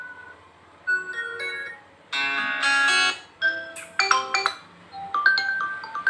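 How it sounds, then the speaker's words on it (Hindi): A bright electronic alarm ringtone melody on a Redmi Note 10 Pro phone plays in several bursts of chiming tones, clear and close, with short pauses between phrases and no talking. "यहाँ से आप रिंगटोन सुन सकते हैं।"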